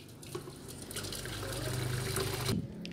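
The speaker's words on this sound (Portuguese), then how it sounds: "vou acrescentar 500 ml de água quente" Hot water poured from close by onto senna and mint tea sachets in a cup, a steady liquid stream filling for nearly three seconds, with the pitch rising as the vessel fills.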